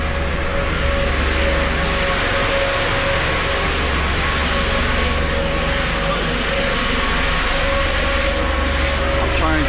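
Buses rumble through Yeovil town centre, a loud, steady engine and traffic roar that fills the whole stretch without a break.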